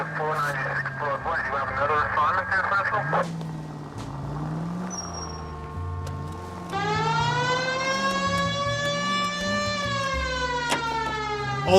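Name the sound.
police siren in video game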